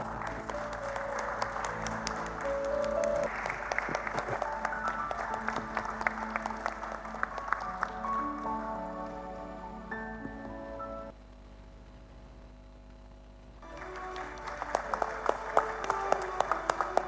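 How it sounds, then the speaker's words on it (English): Audience applause at a design conference in Surat, a sustained wash of clapping from a crowd that drops away briefly into near quiet before swelling again. "Can we have a round of applause?"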